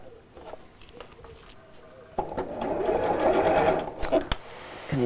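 A sewing machine stitches fabric strips, with light stop-start patter at first, then a loud, steady run of stitching from about the middle, ending in a couple of brief taps.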